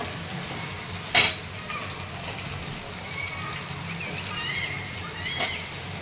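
Potatoes frying in a pan with turmeric and a ground garlic, ginger and coconut masala, a steady close sizzle with stirring scrapes and one sharp clink of a utensil early on.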